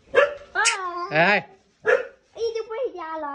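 A small puppy yaps and whines in a few short, high-pitched bursts, close by, with brief pauses between them.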